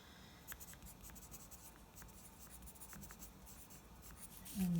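A pencil scratches over paper while drawing textures, making a continuous soft, gritty rasp with small regular strokes. It is close and quiet, with a slightly louder stroke at the end.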